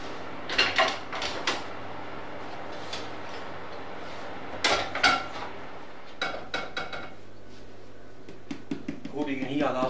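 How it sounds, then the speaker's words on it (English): Knuckle taps on a freshly baked wholemeal bread bun give short, hollow knocks in small clusters, close but fairly soft over faint kitchen room noise. "That's the sound of a nicely cooked bread bun."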